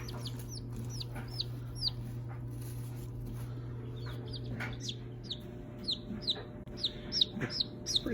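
Sapphire Gem chicks, four young birds with a bluish tint, peep in rapid high chirps over a steady low hum, the calls growing denser and louder toward the end.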